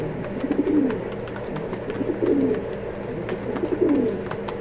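Red checker pigeons in a loft coo softly in repeated low, rolling phrases, roughly three bouts a few seconds apart, over a steady murmur of other birds.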